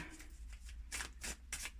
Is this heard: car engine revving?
no